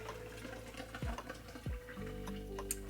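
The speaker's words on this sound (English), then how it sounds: "You drain the water" Water from boiled potatoes is drained in a kitchen: quiet hollow knocks of the pot, then a soft, steady pour and splash that runs to the end, faint and close.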